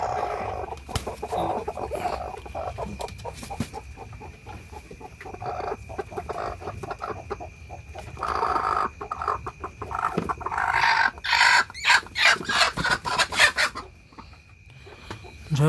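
Chickens in a coop at egg-collecting time cluck repeatedly and irregularly, near and fairly loud, with a busier burst of squawking toward the end.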